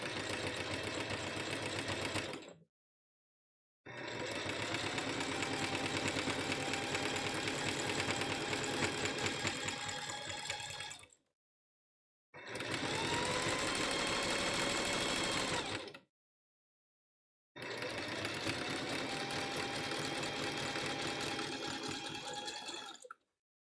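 A sewing machine stitches rope bowls in long steady bursts, running continuously for several seconds at a time and stopping in short silent pauses between runs.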